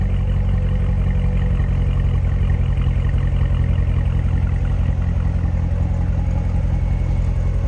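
A stock 2015 Chevrolet Corvette Z06 convertible with a supercharged V8 idles from behind the car, a loud, steady low rumble with a fine mechanical clatter that holds unchanged throughout.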